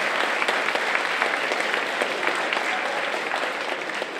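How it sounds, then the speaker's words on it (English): A crowd of students and guests at a Catholic high school livestream event applauds warmly, with dense, steady clapping that holds at a loud level throughout. "A round of applause once more time."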